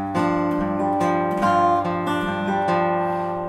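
Acoustic guitar plays the opening measure of a blues tune, a few plucked and strummed chords with ringing sustained notes in a short rhythmic phrase, close and clear, with no talking.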